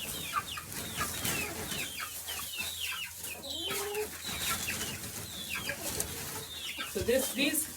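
Chickens cluck and chatter in a coop alongside ducks, with frequent overlapping calls at moderate distance over a quiet background, and a few louder squawks near the end.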